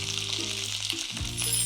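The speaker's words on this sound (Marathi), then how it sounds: "याला रंग बदलेपर्यंत ही परतून घ्यायची तेलामध्ये।" Capsicum sautéing in hot oil gives a steady close sizzle and crackle throughout, with a faint scrape of stirring partway through.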